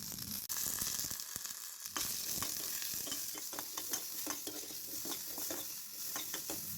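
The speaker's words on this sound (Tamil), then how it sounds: "இதையும் சேர்த்து நல்லா வதக்கிடுங்க." Shallots and garlic sauté in a pan, with a close sizzle under repeated scraping and stirring strokes of a spatula at an irregular rhythm, and no talking.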